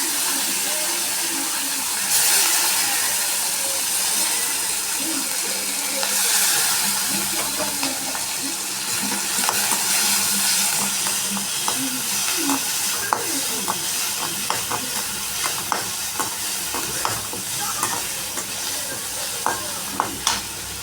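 Curry leaves fry in hot oil with mustard seeds and green chilies for rasam, hissing and sizzling steadily throughout while a spoon stirs and scrapes against the pan in frequent small clinks.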